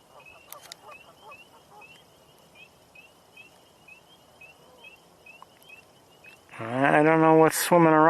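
Outdoors near water, a Canada goose honks loudly and close at the end in a burst of harsh, nasal calls, after a stretch of faint, repeated chirping from other birds in the background.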